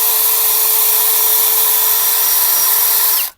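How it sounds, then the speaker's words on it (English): A wire wheel spun by a power drill scrubs rust off the hub of a 2006 Nissan Frontier, giving a steady, loud high-pitched whine with a grinding rasp that holds for about three seconds before cutting off abruptly. "if you switch directions on your wire wheel, now and then it'll start biting in harder"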